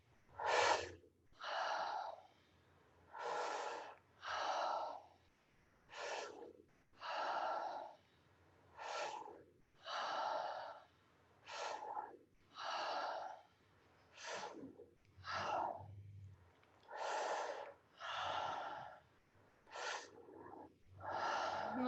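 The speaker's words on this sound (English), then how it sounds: "Breathing in and falling out." Deep rhythmic breathing during a pelvic reset breathwork session, about seventeen full, airy breaths close to the mic, evenly spaced with short pauses between them and no talking.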